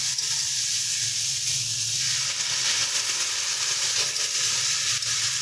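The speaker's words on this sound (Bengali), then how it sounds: "আমরা অল্প অল্প করে জল দিচ্ছি, একবারে জলটা দেবো না।" A prawn and okra curry sizzles and hisses in the pan as water is poured in a little at a time, producing a steady bright frying hiss that swells and steams throughout, with no voices.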